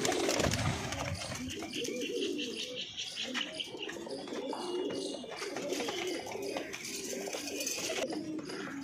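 Punjabi Malwai pigeons coo repeatedly in a loose, overlapping chorus, close and steady, with some chirping mixed in and a busy background of other noise.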